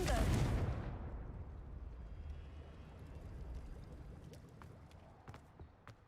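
A loud fiery blast from the Confringo fire spell in a Hogwarts video game erupts at the start, then decays into a rumbling, crackling tail with scattered faint clicks.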